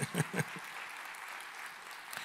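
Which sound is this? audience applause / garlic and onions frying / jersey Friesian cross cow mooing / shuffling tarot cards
audience applause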